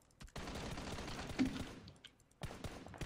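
Rapid automatic gunfire in the shooter game PUBG rattles steadily for about two seconds, stops, then starts up again in another short burst.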